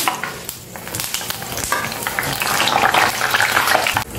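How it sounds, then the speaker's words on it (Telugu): Green chillies fried in hot oil in a kadai, close loud crackling and spitting with bursts of sizzle and spatula scrapes over a few seconds, without any talking. "కొంచెం పచ్చిమిర్చి వేయించుకుందాం."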